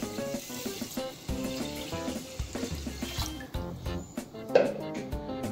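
Water poured into a pot of rice on a stove, a close splashing pour that rises and wavers beneath background music.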